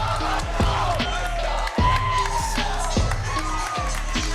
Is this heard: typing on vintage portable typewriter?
no